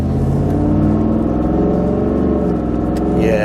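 A Ford F-150 pickup fitted with a Corsa Xtreme catback exhaust revs loudly and steadily close by, its deep engine note rising and falling without letup.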